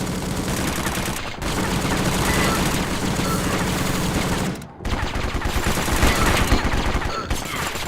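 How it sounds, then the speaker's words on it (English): Rapid SMG bursts from the blocky shooter game War Brokers rattle out loud and close, long fast strings of shots broken by two brief pauses. "I'm going to go to the SMG this time."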